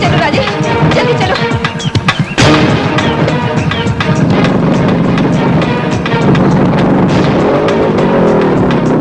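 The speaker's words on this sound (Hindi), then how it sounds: "जल्दी से गाड़ी मोड़ो, जल्दी जल्दी चलो राजेश, जल्दी चलो।" A car in a Hindi-dubbed South Indian film chase turns and speeds away, its loud engine roar and dramatic booming music filling the scene continuously and close by.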